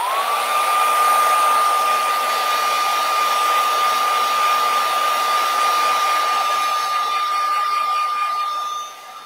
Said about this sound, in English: I am going to use my heat tool on the back of it just to let it to get it dry